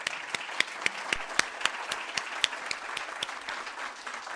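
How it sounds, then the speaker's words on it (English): Audience applause follows a keynote at an Africanist archaeology conference, a scattered, fairly quiet round of clapping with distinct individual claps standing out in an irregular rhythm. "So let us give a round of applause to them."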